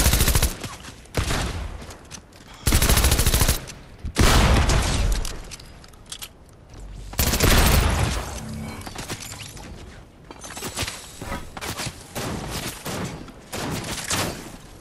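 Gunfire in the video game Fortnite, with repeated loud bursts and booming shots, some clustered in rapid volleys and others spaced apart, dominating a busy battle scene.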